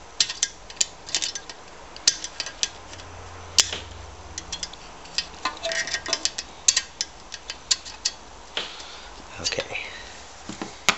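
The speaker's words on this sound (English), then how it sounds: "It's not an easy job to do at all without a valve spring compressor." Metal clicks, ratcheting ticks and small creaks come from a valve spring compressor being worked on a 1973 3 hp Briggs and Stratton engine, irregular and close by, with occasional speech around them.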